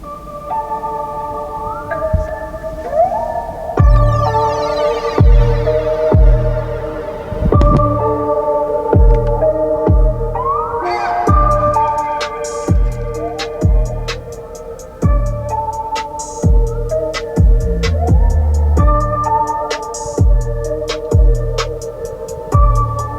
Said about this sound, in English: It's a 16-speaker Bose Centerpoint sound system.